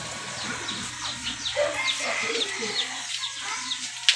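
Racing pigeons coo softly and repeatedly in a loft, with close, rhythmic throaty calls and some higher chirps over a quiet background.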